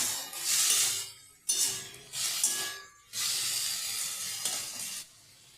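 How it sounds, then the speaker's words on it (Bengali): Chopped tomatoes sizzle and hiss in a hot pan while being stirred, in loud bursts broken by short pauses, close by with no talking. "আমি কেটে রাখা টমেটোগুলোকে দিয়ে দিচ্ছি এবং খুব ভালোভাবে এটাকে আমি ভেজে নেব"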